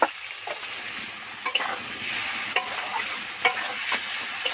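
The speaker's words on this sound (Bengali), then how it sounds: "এবার পেঁয়াজ কুচিটা এর মধ্যে দিয়ে দেবো পেঁয়াজ কুচি দিয়ে এতে সামান্য নুন অ্যাড করব" Chopped onion frying in oil with salt, a continuous close sizzle punctuated by a few sharp scrapes of a spatula against the pan.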